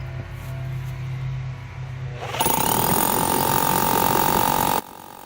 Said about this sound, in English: Let's go ahead and drill our hole straight down from the top.